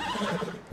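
A horse in the video game Red Dead Redemption 2 whinnies in a short, loud, wavering neigh that fills the whole moment, with no voices alongside.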